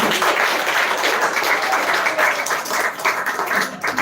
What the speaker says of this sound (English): Once please clap for DIITians.